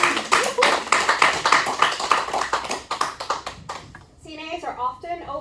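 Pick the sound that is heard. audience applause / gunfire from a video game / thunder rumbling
audience applause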